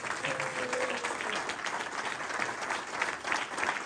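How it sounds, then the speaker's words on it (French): A tribute event audience gives a round of applause, steady scattered clapping at moderate distance with faint voices beneath. "on va faire tout d'abord aussi Une salve d'applaudissements pour Christian, pour Emmanuel"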